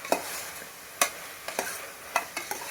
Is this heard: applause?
no